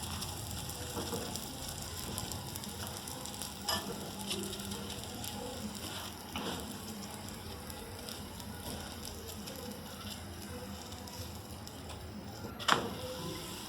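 A chapati fries in oil on a pan with a low, steady crackling sizzle, marked by occasional soft taps and clicks.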